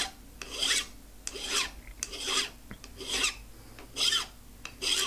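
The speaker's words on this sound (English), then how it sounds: "this is that number two pillar file again. Just trying to round things over, even it out a little bit" A number two pillar file rasps across a titanium part for a 10mm high-capacity 1911 pistol, giving about seven steady back-and-forth strokes, close and clear, with brief pauses between them and no talking.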